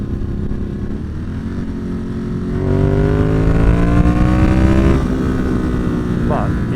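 A 937cc motorcycle engine drones steadily while riding, then climbs in pitch as it accelerates through a gear, runs loud and close under constant wind rush, and settles again near the end.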